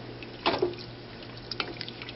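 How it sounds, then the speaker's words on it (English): Water is poured into a pot of simmering chili to thin it, giving a short splashing burst followed by softer, scattered trickles and drips. "we're going to add a little bit of water just to thin it out"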